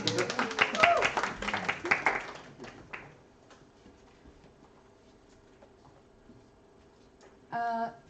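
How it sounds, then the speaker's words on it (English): After an agenda vote at a meeting, an audience breaks into a burst of scattered hand claps that fades within a few seconds, then a long quiet stretch follows before a short sharp clatter near the end. "You can clap."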